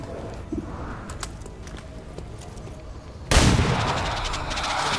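Pistol shot in the XCOM 2 video game, a sudden loud, sharp report near the end that leaves a lingering rumble, preceded by quiet ambient game sounds with faint clicks.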